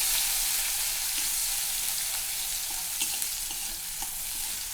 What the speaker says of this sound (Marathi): तर आता ही छान असं तेलात लसूण आणि मिरची तळली पाहिजे.